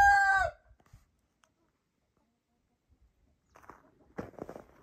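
Farm chickens kept in an old coop, with one loud nearby crow at the very start. It is followed by near silence and then soft rustling and footsteps.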